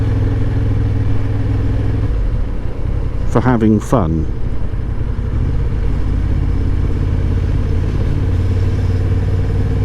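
A Honda XL750 Transalp's engine drones steadily while riding, loud and continuous, beneath someone talking over it.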